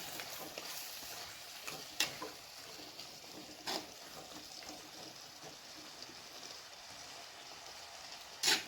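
Ground spice paste sautés in a pan for Tamil-style chicken curry, giving a soft, continuous sizzle broken by a few sharp clinks of a utensil against the pan. Nobody speaks.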